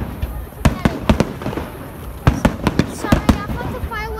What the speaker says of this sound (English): Sorry, I thought the fireworks were going to be over there.